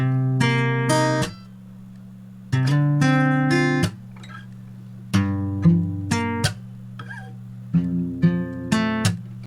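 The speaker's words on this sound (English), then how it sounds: "So first up, I recorded this guitar." A dry, unprocessed guitar loop for a trap beat plays alone, with sustained harmonic chords and plucked notes in phrases separated by brief gaps, a fairly loud close recording.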